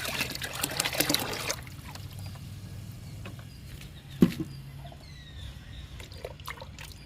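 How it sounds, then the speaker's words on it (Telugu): Diluted plant-flowering liquid trickles and splashes into a bucket, a loud pour in the first second and a half, then fainter dribbling with a sharp knock midway and quiet background noise. "ఈ బకెట్లో సగం పోస్తున్నా"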